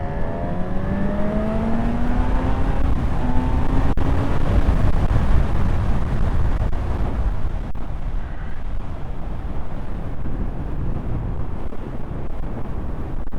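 A 2025 Honda CB1000 Hornet motorcycle pulls away in third gear, its engine note rising steadily under heavy, constant wind roar for several seconds. Only a dense rumble and rush of wind remain after that.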